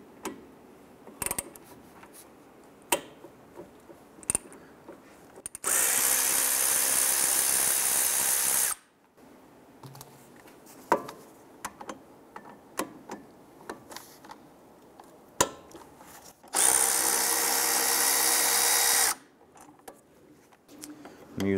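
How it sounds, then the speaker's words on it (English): Power tool with a 13mm socket loosening brake caliper pivot bolts on a 2005-2010 Chrysler 300, two loud steady bursts of a few seconds each, separated by quieter clicks and handling noises. "We're going to use our 13mm socket, loosen and remove these two pivot bolts."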